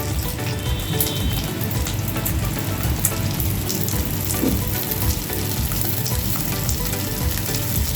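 Beans being added to onions frying in a pan while cooking poha, a steady, dense sizzle and crackle of oil throughout, close and fairly loud, with no talking.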